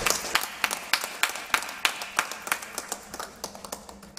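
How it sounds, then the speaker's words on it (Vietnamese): A congregation at a Wednesday evening Mass claps together in a rhythmic round of applause, the beats steady and fairly close, gradually softening and loosening toward the end. "chúng ta cùng chào đón nhau bằng một tràng vỗ tay trong tình yêu của Chúa"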